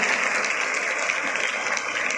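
A crowd at a DMK political meeting claps in a continuous, dense wash of applause, steady and fairly loud throughout.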